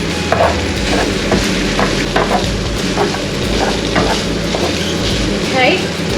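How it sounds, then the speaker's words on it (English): Roasted red pepper stirred in a hot pan for a BBQ chicken sauce, with a steady loud sizzle throughout and repeated scraping strokes of the spoon at an even rhythm. "Mix that around for a little bit,"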